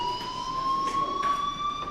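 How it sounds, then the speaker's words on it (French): A fire alarm in the video game Life is Strange rings as a steady, piercing electronic tone with faint pulsing beeps layered over it, continuous and fairly quiet, with no voices. "Hey, do you hear that fire alarm?"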